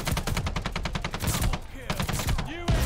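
New assault rifle firing in Call of Duty Vanguard, with a rapid, evenly spaced automatic burst for about a second and a half followed by a few scattered shots, loud and close.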